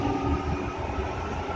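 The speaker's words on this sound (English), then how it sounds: "there's a 4000 class train, also known as electric velocities to Melbourne" A 4000 class electric train passes on the line toward Melbourne, giving a steady broadband rumble and rolling roar that holds level throughout, fairly close and loud.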